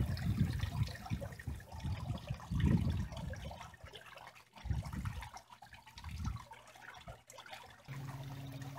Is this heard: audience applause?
no